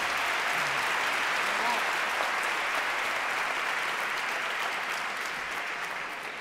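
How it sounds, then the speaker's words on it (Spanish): An audience applauds clarinetist Emilio at an educational concert, a dense steady wash of clapping from a large crowd that slowly eases toward the end. "Un aplauso para Emilio."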